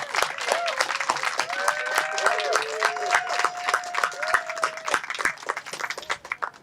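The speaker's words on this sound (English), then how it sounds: "please join me in a round of applause for all their hard work" Audience applause at a Hispanic Heritage Month closing ceremony, a steady wash of clapping for the event organizers, with murmured voices and some whistling or cheering tones running underneath.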